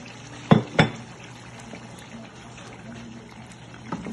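Rice with stockfish stirred in a cooking pot, two quick scraping clanks of a spoon against the pot followed by a soft, quiet simmering background.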